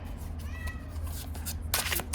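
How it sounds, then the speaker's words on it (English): A house cat meows a few short times indoors, near and moderately loud, with a brief rustle of handled cards at the end. "My cat won't be quiet."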